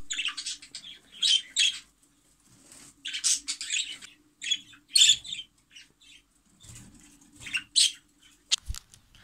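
A pet budgerigar chirps close by in quick, bright bursts and short trills, scattered irregularly with brief quiet gaps between calls.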